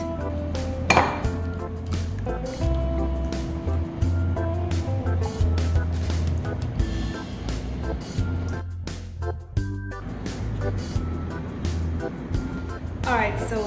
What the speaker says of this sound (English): So now it's time to crack our eggs.